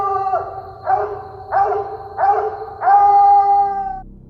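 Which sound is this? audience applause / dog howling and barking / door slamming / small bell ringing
dog howling and barking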